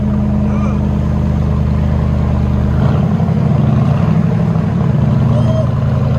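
A loud, deep engine rumble from a 2018 Chevy Silverado 5.3L V8 with a true dual straight-pipe exhaust, steady idle that shifts to a rougher, heavier burble partway through.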